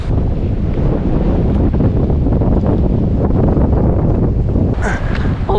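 Strong wind roars constantly across a beach in Tasmania, buffeting the microphone with heavy low rumble and gusts, a wash of surf underneath and a brief brighter rustle near the end.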